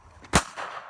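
A handgun fires a single sharp, fairly loud shot at a stuffed owl outdoors, with a low rumble of background noise around it.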